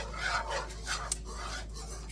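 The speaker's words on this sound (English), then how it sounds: "the metal whisk in my nonstick skillet." A metal whisk scrapes against a nonstick skillet while chicken gravy is made, a soft, close rasping rub in repeated strokes with one brief sharper clink, fairly quiet and without talk.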